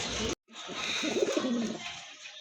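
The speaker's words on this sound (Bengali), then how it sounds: "অনেক সুন্দর চমৎকার এক জোড়া কবুতর" Pigeons for sale at a market, cooing close by after a brief cut to silence, giving soft low throaty murmurs in a short rolling series.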